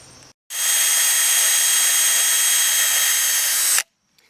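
Power drill driving deck screws into pressure treated boards for a raised vegetable bed, one steady loud whir of about three seconds starting and stopping abruptly, no talk.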